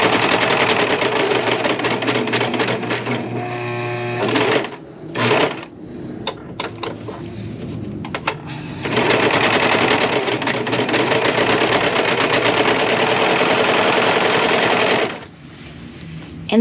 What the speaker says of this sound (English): Just don't find it real easy to pivot on a serger when you have 2 needles.